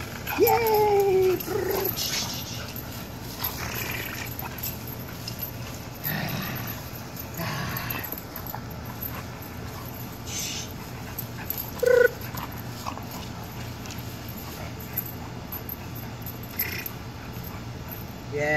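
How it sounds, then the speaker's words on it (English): A nine-month-old Boxer dog whimpers and pants during a food training session, with a brief high whine near the start and soft panting and movement throughout, faint and close by. "You can tell she's a happy dog."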